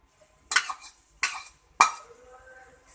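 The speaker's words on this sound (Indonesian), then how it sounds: "kita aduk hingga dia masuk ke dalam air dan hingga merata" Yellow noodles are stirred into boiling water in a cooking pot for Mie Aceh, giving three sharp metallic scrapes and clinks about a second apart, close by and with no talking.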